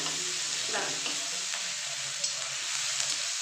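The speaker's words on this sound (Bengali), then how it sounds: "এবার এখানে আমি 1 চামচ আদা বাটা দিয়ে দেবো।" Ginger paste stirred into masala frying in a pan for a vegetarian masala dahi bhindi keeps up a steady, close sizzle, with soft scraping strokes of stirring throughout.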